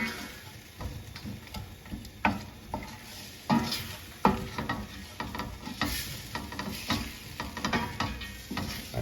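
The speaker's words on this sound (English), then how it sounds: "You give them a quick little saute, but not too long." Peas sizzle steadily in a hot sauté pan while a utensil stirs and scrapes, with occasional clinks against the metal, close up and without speech.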